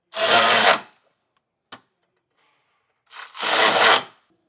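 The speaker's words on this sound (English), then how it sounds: "Now we'll get these tightened down with an 18mm socket." Bolts on a Curt trailer hitch receiver being tightened on a 2017 Ford Fiesta with an 18mm socket: two close, rasping ratchet-like bursts, with a single sharp click between them and no talking.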